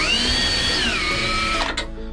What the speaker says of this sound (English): All we're doing is taking out all the screws for these tracks